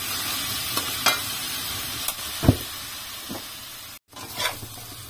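Bean sprouts stir-fried in a hot pan: a few sharp scraping stirs and utensil knocks scattered over a low, steady sizzle, close up and without talk.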